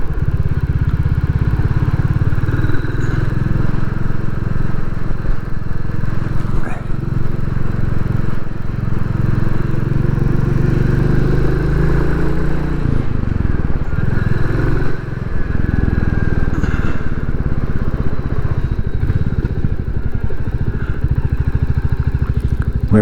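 A Royal Enfield Classic 350 single-cylinder motorcycle on a road ride toward Newquay, its engine droning steadily and loudly throughout, with rumbling wind buffeting around it.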